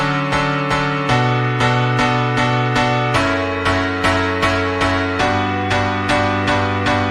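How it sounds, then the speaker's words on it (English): Two synthesized piano parts panned hard left and right play steady repeated chord stabs in an even rhythm, with the chords changing every few beats, loud and upfront with no voices. "Then I combined those two pianos together, and I panned one to the right and one to the left"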